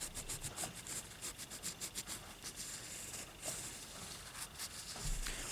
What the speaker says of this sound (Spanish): hay que frotar con cuidado hasta quitar la suciedad de estas láminas de cobre